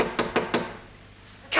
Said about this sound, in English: You will know when I arrive because I will give a secret knock.